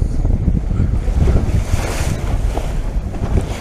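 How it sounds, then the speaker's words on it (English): Following sea waves wash behind a motorboat underway offshore, with heavy wind buffeting the microphone; a continuous loud roar of water and wind with no talk. "There's your following sea."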